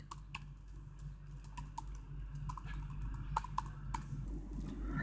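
Quiet, close typing of code on a computer keyboard: steady, irregular key clicks with occasional louder taps over a low background hum, and no talking.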